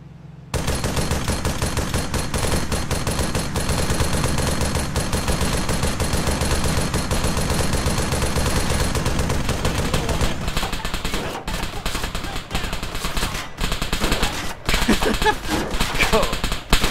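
Sustained automatic machine gun fire in the military shooter Arma 3, a dense, loud rattle of rapid shots that runs unbroken for several seconds before thinning into scattered bursts.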